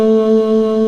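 A Yamaha Tyros 5 keyboard's saxophone voice holds a single smooth, loud sustained note, steady in tone for under a second, playing the opening of a song.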